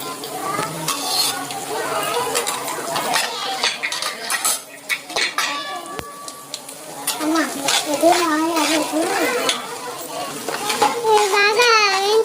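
Mustard seeds, lentils and cumin fry in hot oil in a pan, with spatula scrapes and utensil clinks over a steady sizzle and crackle, close and fairly loud, while someone talks intermittently.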